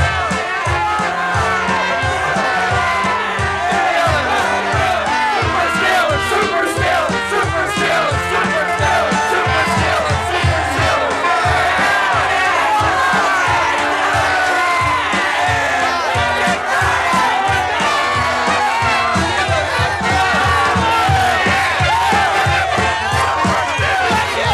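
A large, lively family crowd fills downtown Pittsburgh with continuous cheering and shouting, a dense, steady roar that never lets up, with scattered yells rising above it.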